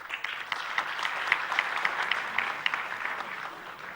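An audience in a hall claps briskly and steadily, a dense wash of applause with a few sharper, regular claps standing out.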